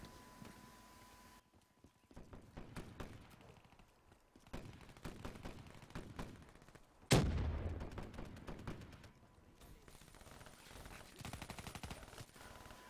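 Video game gunfire from Call of Duty Black Ops 3 crackles in quick bursts and rattling volleys, with one sharp loud blast midway, all at moderate volume without talk.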